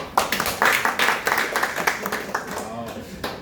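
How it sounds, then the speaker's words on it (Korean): A small audience at a presentation on agricultural price prediction claps in short uneven bursts, several distinct claps rising and falling, with a speaker's voice mixed in. "자, 여기서 박수 한번 칠까요?"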